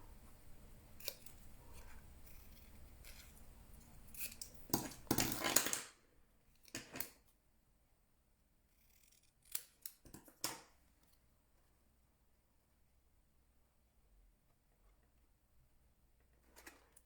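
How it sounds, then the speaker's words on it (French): Scissors snip paper along the edges of letters for an accordion box craft, with a quick cluster of sharp, close cuts followed by a few scattered snips in an otherwise quiet room. "Couper ça comme ça, là, au bord des lettres"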